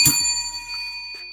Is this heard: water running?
no